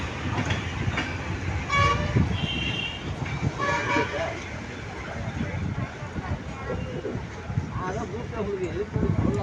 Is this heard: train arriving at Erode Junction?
yes